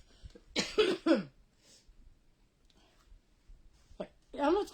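A person coughs a few times in quick succession at close range, followed by quieter breathing and small sounds, then another harsh cough burst, with soft voice sounds in between.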